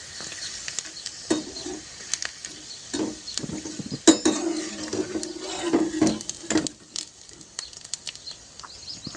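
Sabudana sago pearls deep-frying in oil as they puff up for nylon sabudana snacks, a fizzing crackle with scattered sharp pops and light scraping from a spoon, fairly quiet and without speech.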